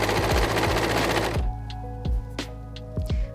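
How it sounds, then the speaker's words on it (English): An overlocker stitches around a fabric circle edge with a loud, fast rapid-fire whir for about a second and a half, then stops, followed by a few short clicks and thumps of handling. "So you can see this lovely stitch that the overlocker does."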